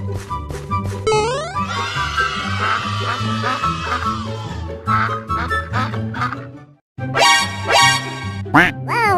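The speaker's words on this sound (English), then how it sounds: "Quack, quack." Cartoon duck quacks, nasal and bouncy, pop out over a loud, busy musical track with sliding whistle-like effects, briefly cutting to silence before the music and quacks return.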